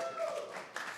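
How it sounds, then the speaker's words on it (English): Applause from an audience at a committee meeting, a steady patter of many hands clapping that holds for about a second with a sharper burst near the end. "one side that keeps clapping after the other side, after their side is talking"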